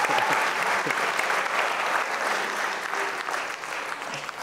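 A studio audience at a comedy show claps in loud, dense, continuous applause throughout, fading slightly toward the end.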